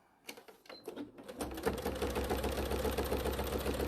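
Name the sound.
sewing machine stitching fabric, clonking noise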